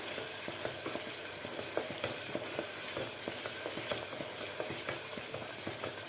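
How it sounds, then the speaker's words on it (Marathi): Dry homemade spices for Kolhapuri misal sauté in a hot pan, a continuous crackling sizzle broken by frequent scraping stirs. Each stroke of the spoon sounds close and clear, with no voices over it. "आता हे सुके मसाले घातल्यानंतरसुद्धा आपल्याला एक मिनिटभर व्यवस्थित मसाले परतून घ्यायचे आहेत"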